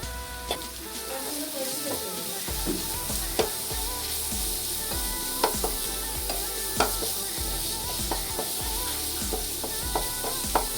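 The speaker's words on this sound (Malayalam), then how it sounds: "ചെറിയ ഉള്ളി നന്നായിട്ട് സോട്ടായതിന് ശേഷം നമുക്കിതിലോട്ട് ഒരു വലിയ ഉള്ളിയുടെ അരഭാഗം നല്ല തിന്നായിട്ട് കട്ട് ചെയ്തിട്ട് ഇട്ട് കൊടുക്കും" Shallots and thinly sliced onion sauté in a pan for a Kerala fish pollichathu, with a constant sizzle and regular spoon scrapes and knocks against the pan.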